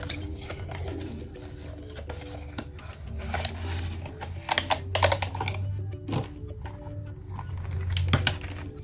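Typing on a cheap flexible waterproof rubber keyboard, a run of soft, muffled key presses in uneven bursts with a few sharper taps, close and moderately quiet over a low background hum.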